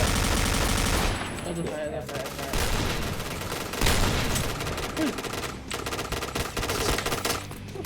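Rapid video game gunfire in a Thai clan-war shooter match, dense bursts and volleys running nearly continuously under busy game noise, with voices talking over the shooting.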